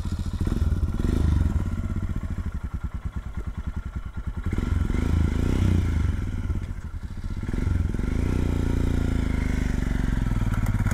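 A loud, close Royal Enfield Himalayan single-cylinder motorcycle thumps and revs as it rides away. The rapid pulsing engine note rises and falls through gear changes.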